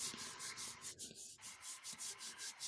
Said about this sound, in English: So I'm just rubbing it.